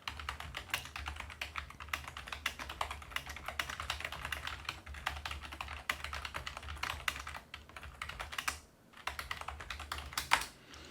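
Fast, continuous typing on a computer keyboard while writing a document, with dense close key clicks in an uneven rhythm and a brief pause near the end before the keystrokes resume.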